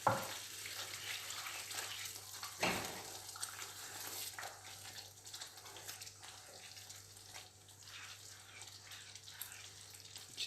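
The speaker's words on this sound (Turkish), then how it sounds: "Yağ çektikten sonra sütümün geri kalanından biraz daha ekliyorum." Milk is poured into semolina halva cooking in oil in a pan, giving a soft, steady sizzle and bubbling with a faint pouring splash, quiet and close.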